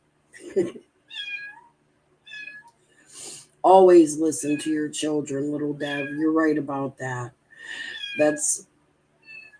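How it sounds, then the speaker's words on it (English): Short, high kitten meows repeat several times between stretches of people talking, the mews thin and insistent, close by. "One of our cats had kittens."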